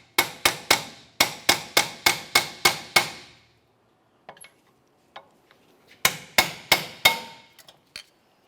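Hammer blows knock the brake pads free of a front brake caliper on a 2001-2005 Ford Explorer Sport Trac, with a rapid run of sharp metallic strikes, a pause with a few faint clinks, then another quick burst, all close and clear.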